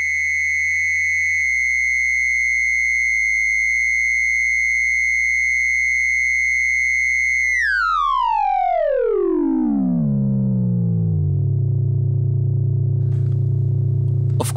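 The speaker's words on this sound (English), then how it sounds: "So we have those classic ring modulated sounds. This is a diode ring modulator," A Shakmat Jeweler diode ring modulator synth module sounds a loud, steady ring-modulated tone with bright upper partials that sweeps steeply downward midway, settling into a low, buzzy drone with no voices.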